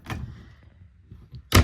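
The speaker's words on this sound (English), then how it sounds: "And all those cabinets open." Storage cabinet doors in the nose of a 2015 Bison 8315 Silverado living-quarters horse trailer are opened: a soft click and rustle, then a sharp, close thunk near the end.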